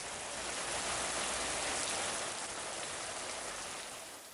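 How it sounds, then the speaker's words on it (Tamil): Steady, dense rainfall spread across a district, a constant hiss of drops hitting surfaces, loud and even throughout with no voices. "இதனிடையே பெரம்பலூர், பேரளி, பாளையம் உள்ளிட்ட மாவட்டத்தின் பல்வேறு இடங்களில் பரவலாக மழை பெய்தது."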